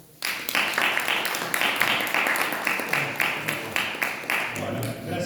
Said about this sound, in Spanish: Muchísimas gracias y un gran aplauso.